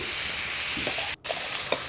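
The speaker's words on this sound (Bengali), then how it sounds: "ফর্টি পার্সেন্ট মতো বেগুনটা আমি ভেজে নিচ্ছি" Eggplant pieces with turmeric frying in a pan, a loud continuous close sizzle with faint stirring scrapes and a brief gap near the middle.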